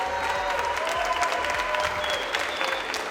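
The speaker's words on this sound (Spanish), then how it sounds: "Un aplauso para todos." Steady applause from a crowd, dense clapping sustained throughout at a constant level, with a faint murmur of voices beneath.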